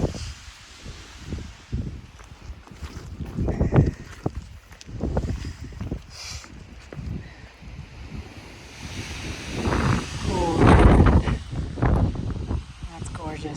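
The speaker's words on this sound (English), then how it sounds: "It's so windy up here." Strong wind on the summit of Welch-Dickey in the New Hampshire mountains, gusting as a loud, fluctuating roar against the microphone, building toward a heavy blast near the end, with someone talking excitedly throughout.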